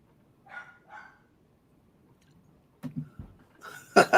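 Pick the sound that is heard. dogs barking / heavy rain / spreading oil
dogs barking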